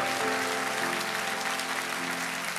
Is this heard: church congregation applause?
yes